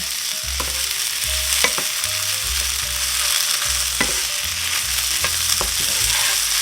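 Onions browning in a hot pan give a steady sizzle, with a wooden-sounding scrape of stirring returning every second or so, fairly close and without any talk.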